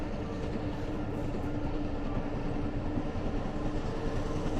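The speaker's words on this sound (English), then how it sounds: "see the steam train come under the arches" A heavy steam train rumbles past nearby under arches, a steady loud roar with a low engine hum and rattling carriages, no voices.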